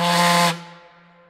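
Steam whistle from a steamboat or small harbor tug blowing one short, loud, steady tone with a hissy edge, then stopping abruptly and leaving a fading ring.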